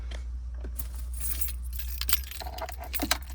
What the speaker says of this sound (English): Let me grab the keys real quick.